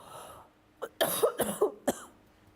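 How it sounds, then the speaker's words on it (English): A person coughs several times in a quick, harsh cluster after a short throat-clearing, close to the microphone in a quiet indoor room, with no talking. "I'm gonna have to cough again, I'm sorry."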